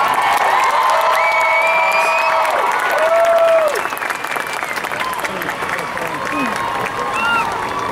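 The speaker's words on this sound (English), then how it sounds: "Let's give these five a big round of applause." A festival crowd at a Harry Potter celebration applauds and cheers steadily as celebrities are introduced on an outdoor stage, the dense clapping running the whole time alongside sustained orchestral tones.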